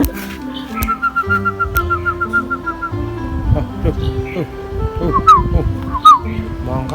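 A spotted dove calls with repeated soft, low coos and whistled notes, while people talk nearby and other birds chirp faintly.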